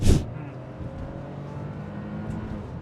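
A Hyundai i20 N Line with its 1-liter turbo petrol engine is being driven, giving a steady low engine drone and road rumble from inside the car after a short sharp burst at the start.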